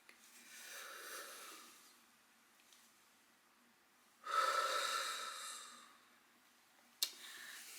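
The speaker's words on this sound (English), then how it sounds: "let's just collectively take a deep breath in and a deep breath" A person takes a deep breath in and lets it out, the long airy inhale and exhale close and quiet, followed by a brief sharp sniff.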